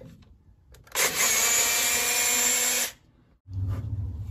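A power drill carefully backs a bit out of a drilled hole, its motor whining loud and steady for about two seconds, then cutting off. A low rumble follows.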